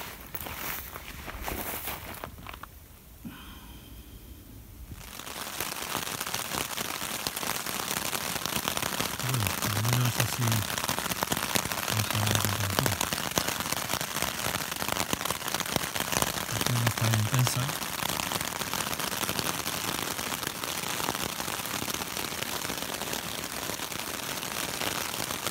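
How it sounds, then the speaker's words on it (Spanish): Rain patters steadily on a taut tent during a hike on the GR-160 trail, a dense, even hiss of drops that starts after a quieter opening and continues unbroken, with occasional low soft thumps. "la tienda soporta bastante bien la lluvia"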